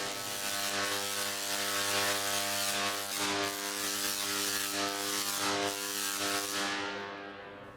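High-voltage corona discharge spraying from a point electrode in a museum high-voltage hall, a loud, continuous buzzing hum with a harsh crackling edge that holds steady and then fades near the end.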